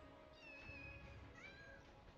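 Kitten meows in Final Fantasy VII, two rising and falling mewing calls over steady game background music, close and clear with no talking.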